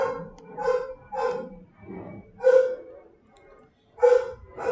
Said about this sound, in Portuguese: Meu cachorro não para de latir aqui